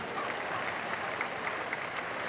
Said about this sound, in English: A massive round of applause to Dalton